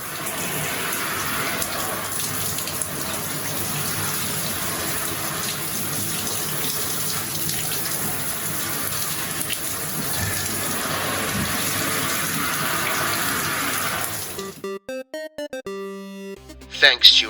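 Water runs steadily from a shower, a loud continuous hiss and splash, then stops abruptly near the end as a short musical jingle begins.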